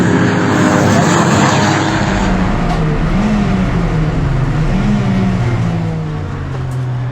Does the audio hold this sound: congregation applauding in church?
no